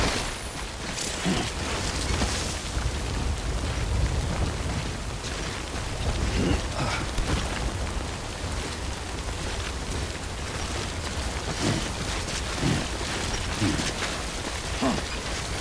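Steady rain pours in the video game Death Stranding, a dense continuous wash of droplets with occasional low rumbles and thuds, loud and unbroken throughout.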